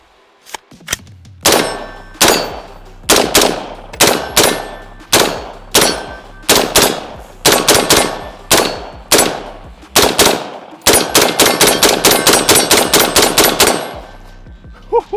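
A Daniel Defense DDM4 V7 rifle chambered in 5.56 fires loud, close shots, first single rounds at a steady rhythm, then a rapid string near the end, each with a ringing metallic clang of hit steel targets.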